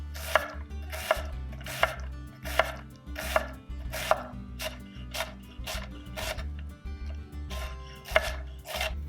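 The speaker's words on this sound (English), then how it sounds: "We're going to cut the other half of the onion the same way" A kitchen knife chops through half an onion on a cutting board, about a dozen crisp, evenly spaced strokes in a steady rhythm, close and clear over faint background music, with no talking.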